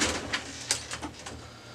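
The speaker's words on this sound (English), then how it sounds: "Once the power turns off, then we're going to open the top cover." The top cover of a Brother HL-3040 color laser printer is lifted open, making a series of soft plastic clicks and a brief creaking slide, heard close with no voices.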